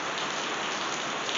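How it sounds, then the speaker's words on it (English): Rain falls steadily outside a van on a rainy day, a dense, even hiss of drops drumming on the surface, close and continuous with no talk. "we have a pretty rainy day out"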